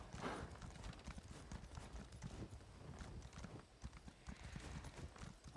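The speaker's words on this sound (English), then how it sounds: "I'm the only one who's riding an actual horse in this game" A video-game horse's hooves clip-clop in a steady, quick rhythm, close and continuous throughout, with a faint neigh-like tone and no talking.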